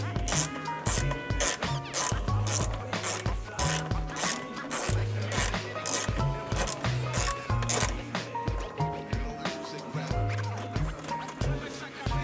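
A hand ratchet clicks steadily in a fast, repeated rhythm as the wire connections on a second-battery kit are tightened, loud and close throughout with no voices.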